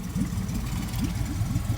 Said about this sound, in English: we have a working motor